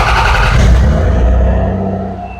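A V6 engine running loud and close, a steady throaty rumble that holds then eases off as the revs drop, no voices over it.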